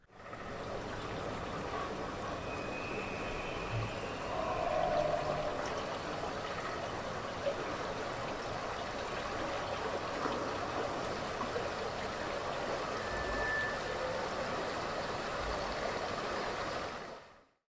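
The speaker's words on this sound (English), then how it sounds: "You'll hear the water running, insects, birds moving throughout, animals, and footsteps." Running water from an atmospheric DTS surround mix played through Focal speakers, a steady rushing stream-like wash with faint chirps of insects or birds layered in, fading out at the end.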